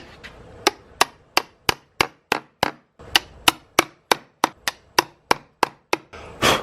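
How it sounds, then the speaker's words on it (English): Wood is chiseled out for a Kwikset smart door handle latch, with about twenty sharp, evenly spaced mallet-on-chisel strikes, close and crisp, followed by a short scraping sound. "we're going to have to chisel out just a little bit of this side here"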